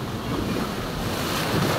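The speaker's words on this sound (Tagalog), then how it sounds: "Malikot ang dagat, malikot." Strong sea waves roll onto the shore in rough weather, a loud continuous roar of surf mixed with heavy wind buffeting the microphone, with no voices.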